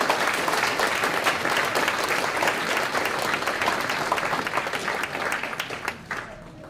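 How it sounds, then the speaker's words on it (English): Audience at a school board meeting applauding students, a sustained burst of many hands clapping at moderate distance that thins and fades toward the end. "Let's give them a round of applause."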